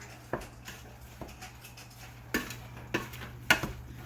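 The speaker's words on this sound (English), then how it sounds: "give this a stir" Cherry jam stirred in a pot on a stove, a spoon scraping and clinking against the pot in a few irregular knocks over a low steady hum, with no talking.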